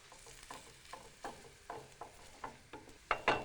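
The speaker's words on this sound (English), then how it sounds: "I'm gonna cook this just until the tomato paste turns dark in the pan" Garlic and tomato paste sizzle in a pan while being stirred, with soft scraping strokes recurring every half second or so and a louder burst of sizzling near the end, close and without talk.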